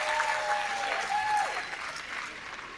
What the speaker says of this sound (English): Please give your MC a round of applause